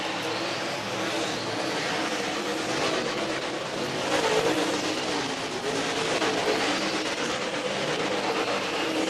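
Dirt late model race cars run hot laps at Thunderhill Raceway in Summerville, Tennessee, a steady broad roar of engines from several cars filling the whole stretch, distant and continuous with slight swells, no talk.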